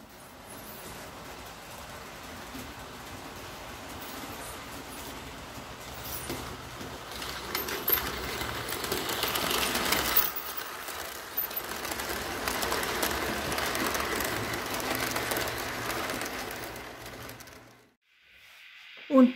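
A small model locomotive runs with a steady whirring, rattling drone, rising in the middle and cutting off near the end, with faint chuffs and coos.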